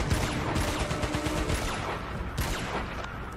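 Dense bursts of gunfire from Uncharted: Golden Abyss on PS Vita, rapid overlapping shots and clattering impacts filling a loud, continuous firefight with no pauses.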